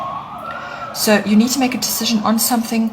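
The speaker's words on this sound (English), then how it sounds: "apologies for the sirens" Emergency vehicle sirens wail outside, a rising-and-falling tone that starts alone and then continues faintly beneath someone speaking close to the microphone.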